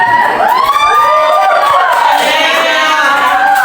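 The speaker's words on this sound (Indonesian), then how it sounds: "tepuk tangan dulu" Children clap and cheer for classmates on a podium, a loud, dense burst of excited shouts and whoops with high voices overlapping throughout.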